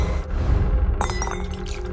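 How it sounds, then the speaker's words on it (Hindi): A drinking glass dropped in a kitchen shatters on the floor at night with rain outside: a bright, sharp crash of breaking glass about midway, followed by scattered tinkling shards over a dull rumbling background. "लेकिन अंदर कदम रखते ही उसके हाथ से गिलास गिर गया।"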